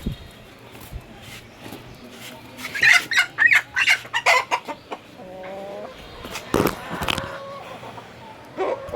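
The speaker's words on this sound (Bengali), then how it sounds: "বক্সিং লড়াই চলছে মুরগির" A red and a white chicken square off in a fight, giving agitated, squawking clucks in bursts through the middle, with flapping scuffles and lower background noise between them; no talking.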